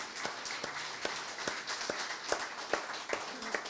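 Small audience clapping after a local history talk, a modest, fairly quiet patter of hands with some distinct individual claps close by, no voices over it.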